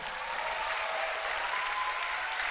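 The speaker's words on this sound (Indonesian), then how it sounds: "tepuk tangan untuk kalian" University lecture hall audience applauding, a dense, even wash of clapping that holds steady and fairly distant for the whole stretch, with no voices over it.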